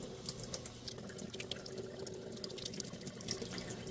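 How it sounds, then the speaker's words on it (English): A Terra Kaffe TK-02 espresso machine's water filter is held under a running tap, giving a steady, continuous rush and splash of water at close range with no talking. "they say to hold it under running water for 30 seconds"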